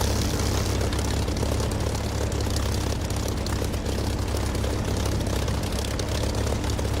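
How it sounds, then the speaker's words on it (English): Piston-engined warbird in the DCS flight simulator drones loudly and continuously, a steady propeller roar with no letup. "These warbirds with the piston engines, they are special."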